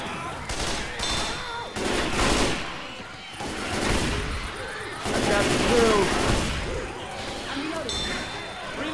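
Shotgun blasts ring out in Left 4 Dead 2, loud repeated booms spread across the stretch amid chaotic game noise, with shouting voices over the top.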